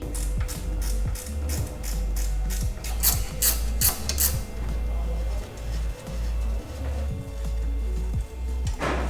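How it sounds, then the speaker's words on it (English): A hand ratchet undoes the dust shield bolts behind a Suzuki Jimny wheel hub, clicking in quick repeated bursts up close, with pauses and faint shop noise between strokes. "So now we have to undo the bolts for the dust shield behind the hub here"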